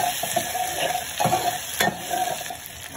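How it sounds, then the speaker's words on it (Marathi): Chopped onion is stirred in hot oil in a pan for a tempering base for a dried bombil and potato curry, with steady close sizzling and repeated scraping strokes of the spoon and no speech. "कांदा छानपैकी परतून घ्यायचा आपल्याला।"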